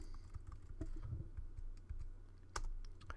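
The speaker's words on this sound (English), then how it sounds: "So you can type in OP and then your name," Keys clack on a computer keyboard as a server command is typed on a Mac, a close, quiet run of irregular taps with one louder burst of strokes near the end, with no talking.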